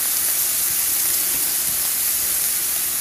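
Smashed burger patties sizzle on a hot griddle, giving off a loud, steady, unbroken hiss with no talking.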